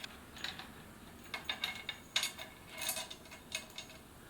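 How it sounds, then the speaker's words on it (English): A nut is unscrewed from the thread stand of a Siruba DL7200 industrial needle feed sewing machine, giving a series of small metallic ticks and clicks at irregular intervals, close and fairly quiet. "remove the nut here."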